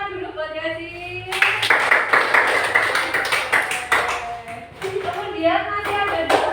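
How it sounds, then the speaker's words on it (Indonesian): Children in a classroom clap together for a classmate, a burst of quick overlapping claps starting partway through and continuing steadily, with a voice and the teacher's speech heard around it. "Tepuk tangan dulu buat Yazid."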